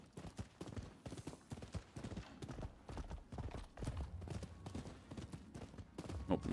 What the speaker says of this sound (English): My horse does, Haruna doesn't give a shit and she'll just run through them.